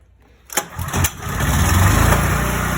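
A generator's small engine catches after pull-cord attempts: two sharp coughing bursts, then the motor settles into a steady, close, loud idle running on alone.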